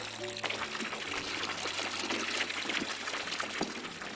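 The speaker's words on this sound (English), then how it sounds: "pour that out there" Liquid being poured out in the Brewmaster beer brewing simulator game, a steady splashing, trickling wash that runs continuously at close range, with faint background sounds mixed in.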